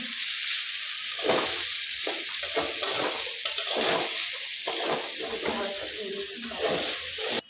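Chow mein with potato and cabbage being stir-fried, a steady loud sizzle with repeated scraping and stirring strokes close by, while a person talks over it.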